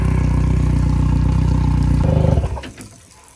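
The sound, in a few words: boat outboard engine running while being flushed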